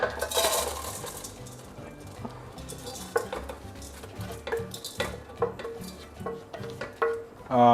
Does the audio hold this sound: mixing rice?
yes